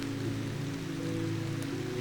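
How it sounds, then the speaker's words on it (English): Steady rain drums on the roof of a conservatory, a dense, even patter with a low hum beneath it, continuous and fairly close with no voices. "The sound of rain against the roof of a conservatory"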